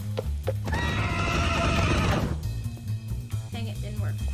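Demon horse from the video game Minecraft, a loud drawn-out neigh and whinny with hoof clip-clops around it, set against game music and a voice talking over it.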